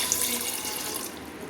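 Water poured from a tap into a pressure cooker holding soaked chickpeas, a steady close hiss and splash lasting under two seconds with no talking.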